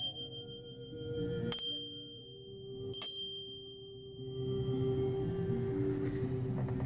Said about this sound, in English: when I ring this little bell, you can hear the vibration of the bell